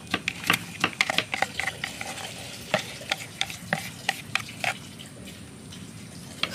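Battered linh fish fries in a pan, giving a steady run of sharp crackles and pops at irregular intervals over a low sizzling hiss, with no talking.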